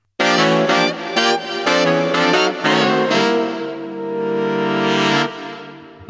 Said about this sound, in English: Anyway, this is the sound of B-voicing.